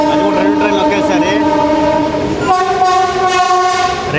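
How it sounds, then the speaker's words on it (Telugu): A goods train overtakes a passenger train with a loud, sustained horn blast that shifts pitch partway through, over heavy rolling rail rumble heard close from on board. "గూడ్స్ మన ట్రైన్ ఓవర్టేక్ కొడుతుంది"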